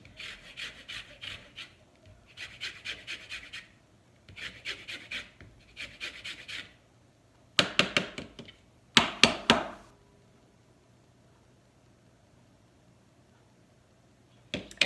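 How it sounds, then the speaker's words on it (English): A lemon being zested on a grater for a lemon cheesecake, close rhythmic rasping strokes in short bursts of four, then a few sharper scrapes, with pauses between. "Like to add the zest at this time."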